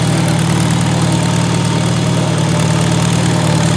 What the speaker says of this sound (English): listen at that International Harvester 4-cylinder engine purr.